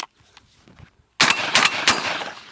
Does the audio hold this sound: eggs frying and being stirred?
no